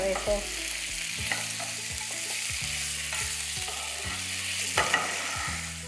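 Spices crackle and sizzle in hot oil for a tempering, a steady frying hiss with occasional stirring scrapes throughout.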